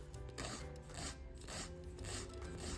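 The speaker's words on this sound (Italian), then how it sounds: "La pulisco, prendo la mia lima" A nail file rasps across a fingernail in quiet, close, rhythmic back-and-forth strokes during a dry manicure.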